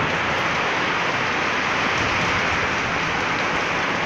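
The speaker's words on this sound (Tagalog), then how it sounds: "Ang lakas ng ulan." Heavy typhoon rain in Pasig, Metro Manila pours down in a loud, unbroken roar, a thick steady wash of noise close to the listener with no speech.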